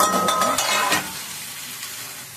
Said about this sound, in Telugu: ఎండు చేపలు నూనెలో ఫ్రై అయినాయి. బీరకాయ వేసుకున్నా.